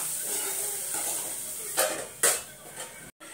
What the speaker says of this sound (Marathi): आता पटकन भाजी फोडणी देते.